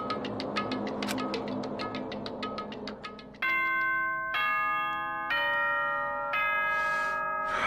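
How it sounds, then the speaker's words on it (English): Announcement chime from the video game Danganronpa 2: a tinkling run of bright bell tones gives way to a sustained four-note ding-dong chime, each note ringing clearly and decaying in turn. "Ding dong bing bong."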